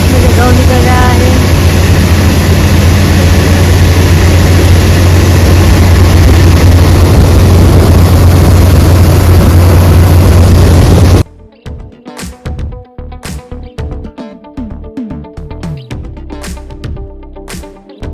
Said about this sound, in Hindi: इस तरह से इसमें से गेहूँ निकल रहा है।